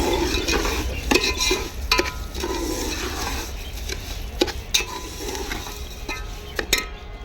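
Sugar stirred in a pot to make syrup for sweet rice zarda: a spoon scrapes and clinks against the pot in quick irregular strokes, close and fairly loud over a soft sizzle.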